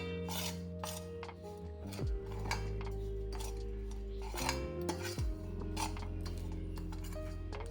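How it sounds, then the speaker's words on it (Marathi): Masala filling for Marathi bharli bhindi is stirred with a little oil, a spoon scraping and clinking against a metal bowl in scattered bursts, with a low steady hum underneath. "याच्यामध्ये किंचित तेल टाकायचं आपल्याला. मिक्स करून घ्यायचं आहे."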